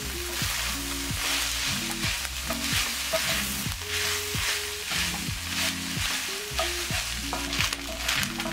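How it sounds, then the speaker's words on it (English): Udon noodles are stir-fried with beef and onions in a hot pan, giving a steady, close sizzle with stirring scrapes and tosses, while background music plays throughout. "You want to add the noodles straight in with the meat and the onions and give it a really good mix."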